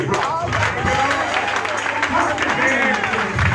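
A church congregation at a worship service claps along amid crowd noise, with loud voices and music-like tones layered over the steady clapping.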